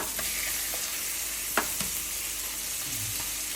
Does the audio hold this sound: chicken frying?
yes